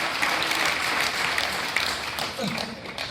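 Audience applause at a gathering in Bugesera, Rwanda, a steady dense clapping sustained for the full three seconds, fairly loud and close, with no talk over it.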